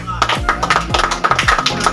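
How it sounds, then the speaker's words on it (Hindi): Applause for children at a school learning-game event, a dense run of hand claps with a steady patter over about two seconds, close and fairly loud, with a voice partly mixed in. "तो चलिए आप सब के लिए बहुत बहुत, है ना, जोरदार ताली होनी चाहिए।"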